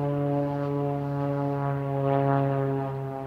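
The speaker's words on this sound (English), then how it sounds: "let's listen to this plane go by for a second" A propeller airplane drones steadily overhead, its engine hum holding a continuous tone that swells slightly as it passes, heard alone with no talking.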